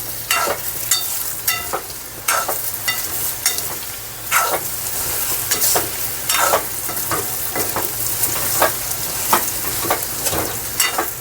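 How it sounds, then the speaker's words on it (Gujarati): Leftover roti patra being tempered in a pan: a steady sizzle of frying with repeated scraping stir strokes at a fairly regular rhythm, close and clear, with no talking. "રોટલીના પાત્રા વઘારી નાખ્યું"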